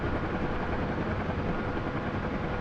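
Helicopter lifting off steeply over trees during a practice flight, a loud steady rotor and engine roar holding close and constant throughout without talk.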